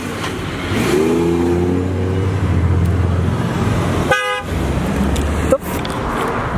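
A car horn gives a sharp, loud honk amid the rumble of a moving car and road traffic, with a revving engine earlier on.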